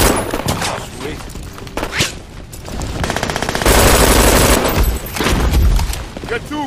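Rapid automatic gunfire from the video game Brink, loud dense bursts and sustained fusillade filling most of the stretch, with game voice callouts and booms mixed in.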